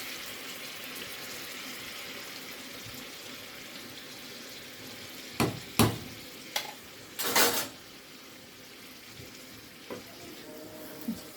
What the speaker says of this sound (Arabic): حطيت فيها ايه معلقه زبده كده او السمنه او حبه زيت، انزل بالخليط بتاعنا ده كده